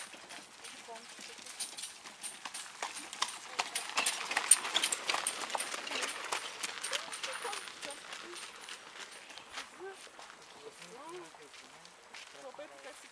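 Horses clip-clopping along a park path, a steady patter of hoof falls at moderate distance, growing louder midway and fading again, with people talking quietly over them.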